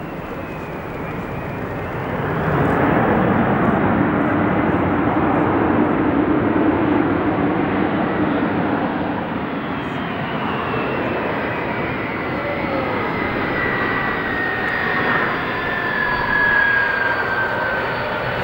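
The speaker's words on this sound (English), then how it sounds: "This Airbus A300 braking as hard as possible" An Airbus A300 braking as hard as possible on the runway, its brakes smoking, gives a loud, steady broadband roar that swells after a couple of seconds and holds, with a faint descending whine drifting through it.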